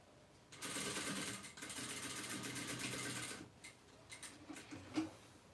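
Sewing machine stitching fabric for an eco bag, a rapid mechanical whirr in two bursts of about a second and two seconds, followed by a few quiet clicks and a light clatter.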